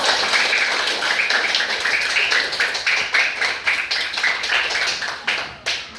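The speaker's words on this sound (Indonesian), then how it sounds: "Tepuk tangan dulu." A class of schoolchildren clapping hands in an elementary school classroom, loud and close, with sharp irregular claps that fall into short rhythmic bursts.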